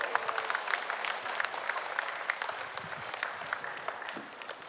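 At a public radio broadcast anniversary show, an audience claps to welcome a singer, a moderately quiet but continuous applause with distinct individual claps standing out, heard from some distance.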